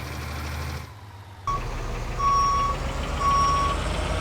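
Fire truck in the game Emergency backs up with a loud idling diesel rumble, its reversing alarm giving two long, evenly spaced steady beeps after a brief dip in the engine sound.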